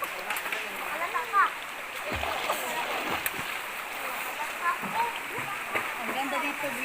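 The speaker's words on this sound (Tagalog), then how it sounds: "Yan, naliligo na yung partner ko." Water splashes and ripples around someone bathing in a spring at Domagocdoc, Bato, Leyte, steady flowing water underneath, with a voice talking over it.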